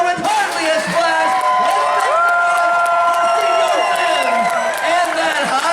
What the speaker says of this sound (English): let's keep the applause going for the entire cast